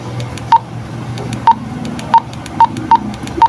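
A UV-5R handheld radio gives six short, sharp roger beep tones at irregular intervals. They sound over a low background murmur of hiss and hum, close and clear.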